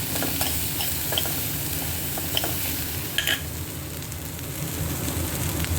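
Dal and peanuts frying in a little oil with green chillies, a dense, even sizzle with crackling pops and occasional scraping of a spoon, close and steady throughout.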